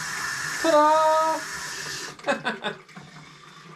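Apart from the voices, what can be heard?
water running from a tap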